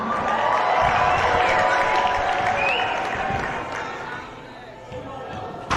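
A crowd cheering and clapping in a large indoor gym at a women's basketball game, steady and loud at first, then easing off before a brief swell at the end.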